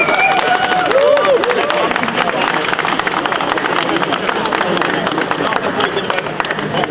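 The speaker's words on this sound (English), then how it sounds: "A massive round of applause for everyone from construction sport." Audience clapping and cheering at UK Construction Week 2022 in London, a dense steady crowd sound holding through the whole stretch, with some voices mixed in.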